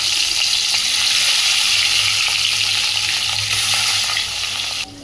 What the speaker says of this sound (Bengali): তেল গরম হয়ে গেছে, মাছগুলো ভেজে নেব।